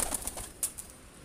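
A pigeon, one of a prize-winning Lahore racing flock, flaps its wings in a few quick, soft bursts close by, with faint bird sounds around and no talking.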